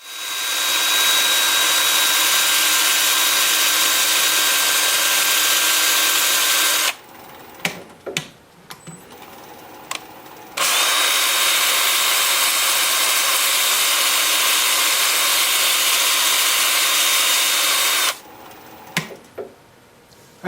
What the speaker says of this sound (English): Time for sanding.